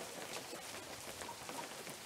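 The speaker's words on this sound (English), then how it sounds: "This rain is annoying me." Steady rain falls in the survival game Unturned, a continuous soft hiss of drops with no voices, even and moderately quiet throughout.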